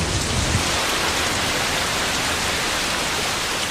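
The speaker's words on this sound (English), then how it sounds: "Over 450 inches of rain can fall on this side of the island of Kauai every year, making it the wettest place on Earth." Heavy rain pours steadily on the island of Kauai, Hawaii, a dense, constant hiss of falling water with no pauses, loud and close, with no voices.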